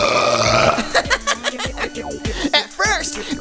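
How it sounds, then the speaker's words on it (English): A loud, drawn-out belch with a stuttering, croaky rhythm lasts a few seconds, followed by brief giggling and chuckling. "satisfying belch."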